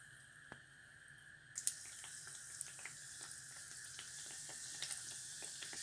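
A steady hiss of pişi dough frying in hot oil rises suddenly after a quiet start, with small pops and crackles scattered throughout, close by and fairly quiet.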